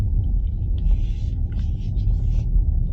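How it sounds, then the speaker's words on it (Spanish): An XPENG G9 Long Range 2025 SUV with 25,000 km drives over uneven pavement, heard from inside the cabin as a steady low road rumble with faint light rattles above it. "Vamos a pasar por esta zona de pavimento irregular."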